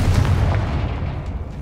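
The Confringo spell in Hogwarts Legacy goes off as a single loud, booming blast that rolls and fades over a second and a half, heard alone and close.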